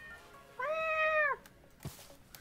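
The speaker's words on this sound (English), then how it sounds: "So many cats!" A Minecraft cat gives a single clear, drawn-out meow in the game, close and loud, followed by a brief click and quiet background.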